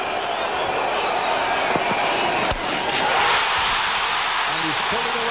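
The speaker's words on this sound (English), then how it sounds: "Doesn't the crowd enjoy that?" Cricket crowd cheering and applauding after a boundary that raises a hundred partnership, a broad steady roar under commentary with a sharp thump partway through.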